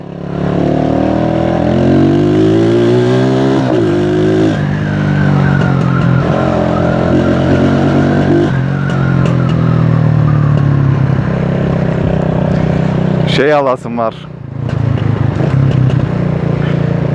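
A Honda CG motorcycle engine revs repeatedly up close, rising and falling in pitch with a sharp whining burst near the end, while a voice speaks briefly.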